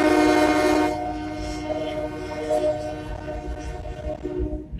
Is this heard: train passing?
yes